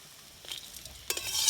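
Fried spice paste is poured into a hot pan, setting off a brief bright sizzle that swells louder in the final moments after a short scrape.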